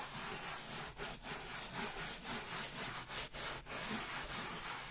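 Rhythmic back-and-forth scrubbing of a dirty surface with a brush in a circular motion, a close, loud, steady rasping rub with no talk.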